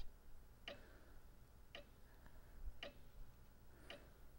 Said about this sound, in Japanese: このなんか時計の音があれだよな。